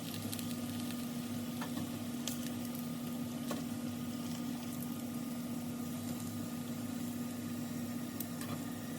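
Chicken wings for crispy honey garlic wings frying in hot oil, giving a steady, continuous sizzle with a low hum beneath and a few faint pops, heard close with no voices.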